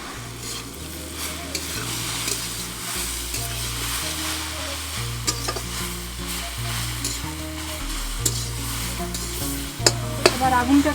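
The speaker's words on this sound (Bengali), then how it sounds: "আমি শাকটাকে 5 মিনিট মতন ঢেকে রেখেছিলাম, আর মিডিয়াম হিটে প্রায় 15 মিনিট ধরে ভেজেছি" Jute leaves seasoned with salt and turmeric fry in a pan over medium heat, with a steady close sizzle and occasional stirring scrapes under soft background music.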